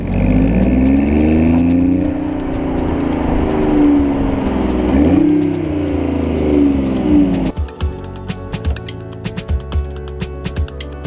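The 1.5-liter inline three-cylinder engine of a 2017 BMW i8 plug-in hybrid revs up and down twice with a raspy, throaty tone, loud and close, then settles into a rough, ticking idle.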